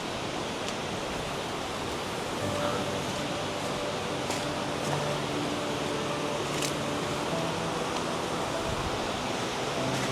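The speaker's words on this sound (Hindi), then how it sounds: "it's so amazing to see the water gushing down" A monsoon waterfall gushes down in a steady, dense roar of rushing water, loud and unbroken throughout, with rain falling in the area.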